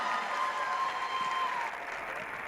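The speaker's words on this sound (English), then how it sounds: "Can y'all clap for him one more time" A university crowd at UNLV applauds steadily as one dense wash of clapping, sustained and even before easing slightly toward the end.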